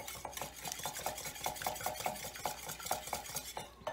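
Yogurt pie batter with vanilla being beaten by hand with a balloon whisk in a bowl, quick, even, rhythmic strokes tapping the bowl throughout, close and moderately loud.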